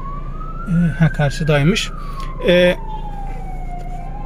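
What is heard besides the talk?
ambulance siren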